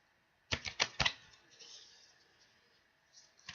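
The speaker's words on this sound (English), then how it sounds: "I'll shuffle these little ones." A quick burst of papery flicks and riffles, several rapid cards snapping close by, then a fainter rustle and one last soft tap.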